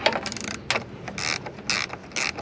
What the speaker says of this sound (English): Because I got a ratchet wrench.